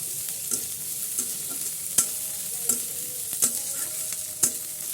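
Onions fry in oil in a pan, a faint steady sizzle broken by sharp clicks and scrapes of stirring at irregular intervals.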